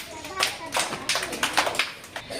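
A first-grade class of children claps in scattered, uneven bursts close by, the hand claps rising and falling over a couple of seconds.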